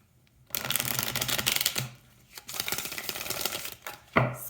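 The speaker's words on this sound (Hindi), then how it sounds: "तो चलिए शफल कर लेते हैं स्कॉर्पियो वृश्चिक राशि के लिए" A deck of tarot cards is shuffled for an astrology reading. It gives close, loud riffling bursts, one long run and then a shorter second run, with a soft snap at the end and no speech.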